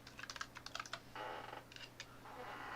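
Quick bursts of typing on a computer keyboard, key clicks tapping in short irregular runs close by, with a steady low hum underneath and no one speaking.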